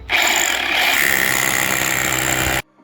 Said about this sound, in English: now we're gonna use this huge drill bit to screw into the holes over here.